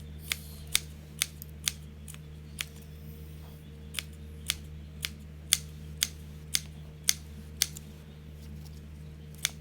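Scissors snip through window blind cords in a steady series of crisp, close clicks, about a dozen cuts spaced roughly half a second apart over a low steady hum, with no talking.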